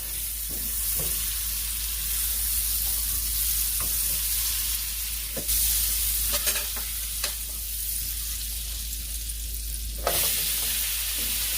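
Olive oil and butter sizzle steadily in a pan, a continuous close hiss broken by a few scraping stirs and clicks, with no talk.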